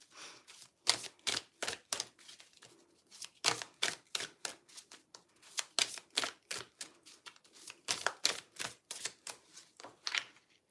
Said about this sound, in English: I wonder how much time I've spent shuffling in the entire video